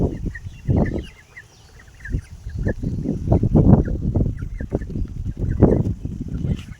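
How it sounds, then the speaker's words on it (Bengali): Young ducks in a village pond give repeated nasal quacks and chattering calls in uneven bursts, fairly close and loud, with faint background sounds between them. "এই হাঁসগুলো শুধু পুকুরের মধ্যে খেলা করে"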